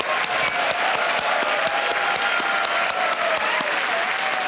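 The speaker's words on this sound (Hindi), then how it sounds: "तालियां" Studio audience applause on the KBC quiz show set, dense and sustained clapping from a large crowd, loud and uniform without pause.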